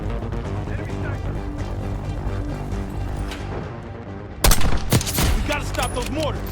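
Sniper gunfire in the Call of Duty: Black Ops 6 campaign cracks out in a few sharp, loud shots. They come over dense, continuous battle noise and music.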